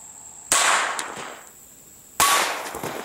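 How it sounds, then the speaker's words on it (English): Two sharp reports of corrosive Turkish surplus 32 ACP fired from a CZ-70 pistol at a frying pan target, each a loud crack with a ringing tail, roughly a second and a half apart. "we got some 32 ACP, some corrosive Turkish surplus that we got here. We're going to be firing it from the CZ-70."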